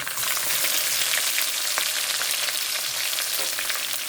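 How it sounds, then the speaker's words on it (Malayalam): Crushed garlic and ginger fry with popped mustard seeds in hot oil, making a steady, close, bright sizzle with faint scattered crackles and no talking. "കടുക് പൊട്ടിക്കഴിഞ്ഞപ്പോൾ നമുക്ക് വെളുത്തുള്ളി ഇഞ്ചിയും കൂടെ ചതച്ച് ഇടാം."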